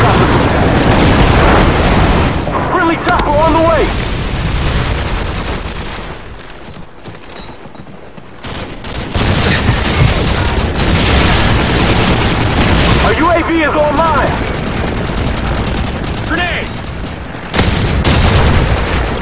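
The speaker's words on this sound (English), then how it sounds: "Friendly airstrike on the way!" Airstrike explosions and bursts of gunfire in the Call of Duty 4 video game, loud and continuous throughout, with rolling booms, a quieter lull midway, then heavy blasts resuming, mixed with game voices.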